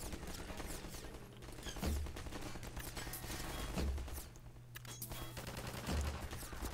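Gunshots from a sniper-like rifle in Half-Life 2, a few heavy shots spaced about two seconds apart over a continuous noisy game background.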